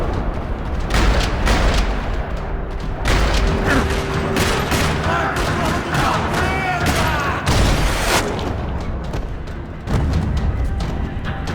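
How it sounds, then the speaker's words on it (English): Gunfire rattling across a parking lot in the Max Payne 3 shooter game, loud bursts of rapid shots and booming impacts layered over one another, with short lulls between volleys. "Another parking lot rattling with gunfire."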